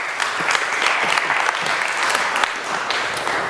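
Steady applause from a gathered audience at a community talk, dense and even throughout with no voices over it.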